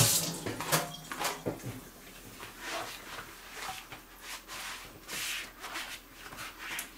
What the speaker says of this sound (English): Go over to the sink. Rinse them really well.